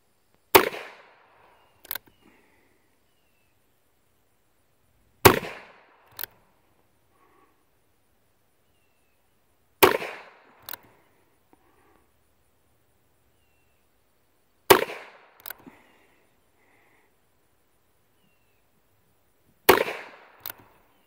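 Five sharp .22 LR revolver shots from a Ruger Single Six, evenly spaced about five seconds apart, each loud and close with a short echo and a faint click or rattle following, with quiet between.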